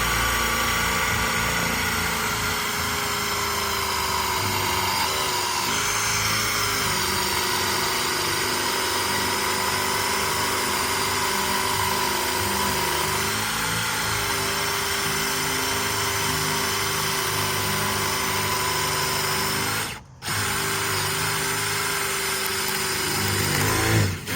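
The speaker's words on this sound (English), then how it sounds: "And then you just drill into it" A power drill bores into a 2x4 wood board with a steady, close motor whine that holds almost unbroken for about twenty seconds, dipping once briefly near the end.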